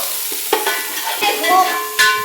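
Onions stir-frying in a pan for a Kannada breakfast dish, with a few scraping stirs and a soft sizzle over about two seconds, close and fairly loud with no talk.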